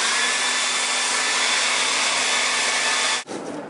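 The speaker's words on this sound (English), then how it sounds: "using the hairdryer, and that dries it very quick" A hairdryer on heat blows hard and loud, drying paint on a small zombie head with a steady roar that cuts off abruptly near the end.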